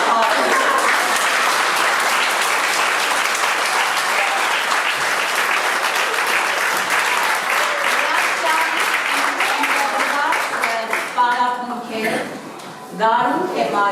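Warm applause for a group of 3-4-year-old kindergarten children. Dense, loud clapping from a large audience holds steady for several seconds, then thins out near the end as a few voices come through.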